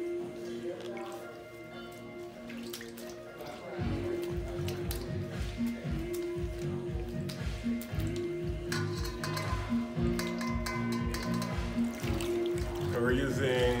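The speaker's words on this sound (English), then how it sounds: "Don't be afraid to get aggressive with this bag." A kava strainer bag is squeezed hard in a bowl of room-temperature water, giving wet squelching and dripping sounds that are continuous and fairly close, under a steady background sound.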